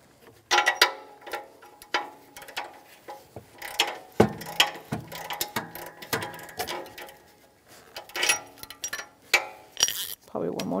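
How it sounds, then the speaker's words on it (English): A ratchet fitted with an O2 sensor socket clicks and clinks in short bursts while loosening the upstream oxygen sensor on a 2013-2018 Toyota RAV4 2.5L; a voice talks between the bursts. "it's usually an O2 sensor socket. So pull on it counterclockwise."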